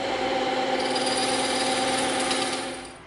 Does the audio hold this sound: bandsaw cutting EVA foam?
yes